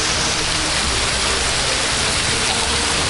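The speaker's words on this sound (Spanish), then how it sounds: "Wow, estamos detrás de la cascada." A cave waterfall heard from behind the falling water: a loud, dense, continuous roar of splashing water, close and unbroken throughout.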